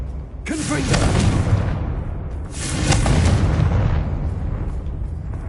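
In Hogwarts Legacy, a Confringo fire spell bursts into two booming explosions a couple of seconds apart, each followed by a rumbling roar that fades.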